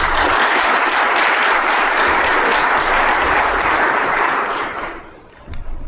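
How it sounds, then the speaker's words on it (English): A conference audience at a Black Hat security talk breaks into loud, dense applause that holds steady for several seconds and then tapers off near the end. "please give a round of applause"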